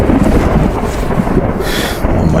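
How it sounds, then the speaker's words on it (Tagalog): Heavy rain falls in a dense, loud roar with low rumbling that suggests thunder, a steady close downpour with no one speaking. "Malakas tong ulan na to."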